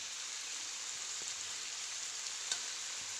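Marinated potatoes fry in a pan with a steady, even sizzle that holds through the whole stretch, with one small sharp crackle near the end and no voices.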